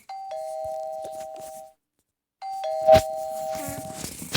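A doorbell chimes twice in the Toca Boca video game, each ring a clear two-tone electronic ding-dong separated by a short silence, with faint game sounds around the second ring.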